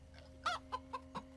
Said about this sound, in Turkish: Tavuk!